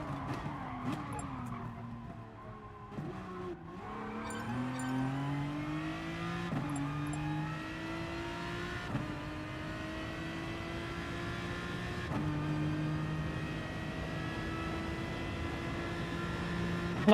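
Race car engine in GT Sport, driven hard, with rising and falling revs through gear changes and tire squeal and skidding, steady and fairly loud throughout.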